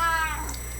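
A cat lets out a single drawn-out meow that rises and then falls, close and clear indoors, with no talking over it.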